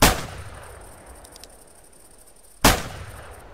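Two loud, sharp revolver shots ring out at a shooting range, each followed by a fading ring, with a quiet stretch of about two and a half seconds between them.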